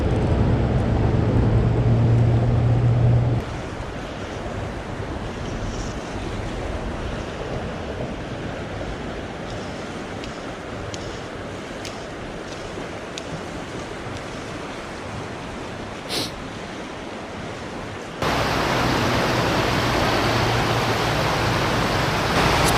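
A fast-flowing stream, a brown trout fishing spot in Pennsylvania in fall, rushes as a steady broadband wash of water, louder at the start and end and softer through the middle, with no voices.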